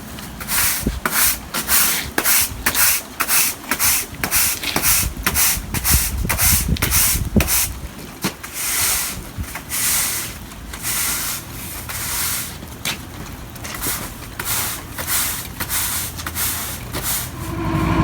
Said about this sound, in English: I'm just going to give the patch area a quick sweep and a blow before we go and grab the asphalt.